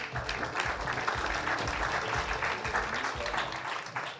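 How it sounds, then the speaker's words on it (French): Audience applause at the TOP250 jury prize awards ceremony in France, a continuous, fairly even round of clapping from a sizable crowd that holds steady before tapering near the end. "on peut l'applaudir"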